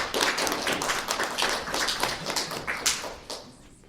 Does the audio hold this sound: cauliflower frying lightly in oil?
no